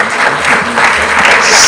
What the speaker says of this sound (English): Please, another round of applause.